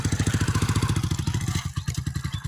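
A Honda Wave Z motorcycle runs nearby with a loud, steady pulsing engine thrum, its rapid even beats continuing for the whole brief stretch.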